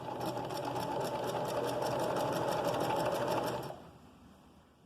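A sewing machine stitches fabric in a fast, even mechanical rattle for about four seconds, then stops and leaves a quiet room.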